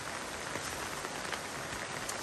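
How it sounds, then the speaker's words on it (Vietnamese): Steady rain falls outdoors on a hillside farm plot among cassava plants, a dense, even hiss of drops on surfaces that holds at constant level throughout, with no voices. "Trời mưa quá"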